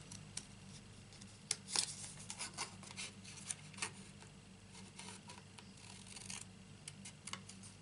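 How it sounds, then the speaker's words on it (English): Scissors snipping paper into rectangles for a Stampin' Up Petal Palette card project, with a few sharp cuts and faint rustling close by on a quiet table. "And with some scissors, what we do, we just cut these out into rectangles."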